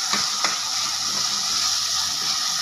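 Kuzhambu being stirred in a pan just after asafoetida goes in, giving a steady close sizzle with soft scraping strokes near the start and no voices.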